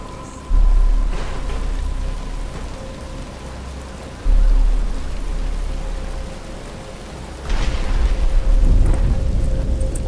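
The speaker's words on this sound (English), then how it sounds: "But it's starting to rain." Rain and thunder in the Batman: Arkham Asylum video game: a constant loud rain hiss, broken by three heavy thunder rumbles that swell and roll, with a faint tonal hum beneath.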